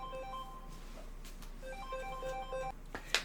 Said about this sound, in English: My phone alarm going off.